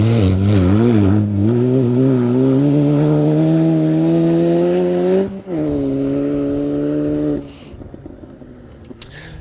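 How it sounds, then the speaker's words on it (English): A Mini rally car racing flat out on an asphalt rally stage, its engine loud and close as it revs hard and climbs through the gears, with a sharp lift off around mid-run before powering on again and then fading away. "Car 45, the Bradshaw and Harris Mini, still pushing hard"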